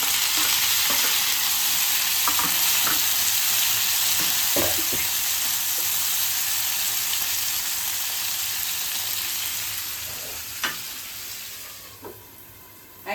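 Onion, garlic and green chillies fry in an oil-filled pan, a steady broad sizzle with occasional soft stirring clicks that gradually eases toward the end.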